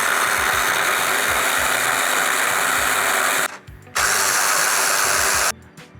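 A blender grinds strawberries and mulberries into a milkshake, a loud steady motorized whir running continuously with two brief cutoffs where the motor stops and restarts, with no talking.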